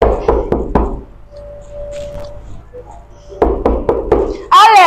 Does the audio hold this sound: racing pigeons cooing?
no